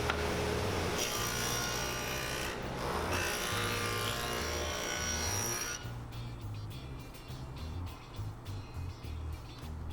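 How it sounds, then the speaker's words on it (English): A table saw cuts through wood, likely walnut or mahogany for a picture frame, with a loud, steady whine for about six seconds before the blade leaves the board and the motor runs on more quietly. "move the table saw over just a little bit, and then I'm going to cut it the rest of the way"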